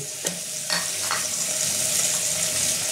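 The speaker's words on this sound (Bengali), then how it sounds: "এটা আমি ভালো করে কষাবো।" Butter chicken masala sautéing with chopped green chillies, cumin powder and coriander powder in a pan, a steady bright sizzle and frying crackle with a few scraping stirs near the start.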